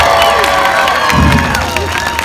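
A huge street-performance crowd cheers, shouts and claps loudly and without a break, with children's voices mixed into the dense roar.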